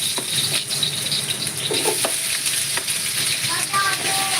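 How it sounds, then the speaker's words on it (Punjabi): Potatoes fry in a pan with a continuous bright sizzle and crackle, close and steady, with occasional stirring scrapes and no talking. "ਪਹਿਲਾਂ ਕਰਨੇ ਆ ਆਪਾਂ ਆਲੂ ਫਰਾਈ"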